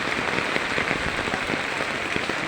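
Heavy rain pours down outside during a flood, a dense, steady patter of drops drumming on surfaces close by, with no talking.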